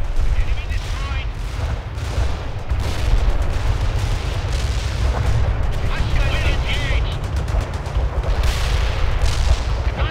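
Heavy gunfire and artillery blasts from a World in Conflict battle defending a bridge, a loud continuous barrage of rapid shots, machine-gun bursts and booms filling the whole stretch.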